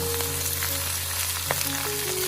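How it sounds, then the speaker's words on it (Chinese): Cabbage stir-frying over high heat in hot oil in a wok, a continuous close sizzle with occasional scrapes and tosses of the spatula, loud and steady without talk. "然后开大火，先把包菜煎炒一下，"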